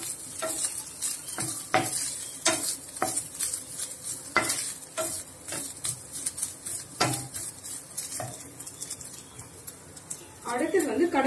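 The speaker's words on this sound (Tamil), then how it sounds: "இப்போ இந்த நெய்ல அந்த தேங்காவை கொஞ்சம் நல்லா வதக்கிட்டு" Grated coconut sautés in ghee in a pan for suliam, with frequent sharp clanks of a spoon against metal over a constant frying sizzle. A voice is briefly heard near the end.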